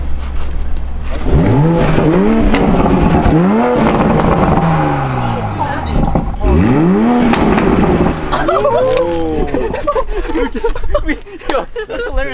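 A 2020 Toyota Supra in sport mode revs hard and pulls through several rising gear sweeps, loud and close, while people inside shout and talk excitedly over it.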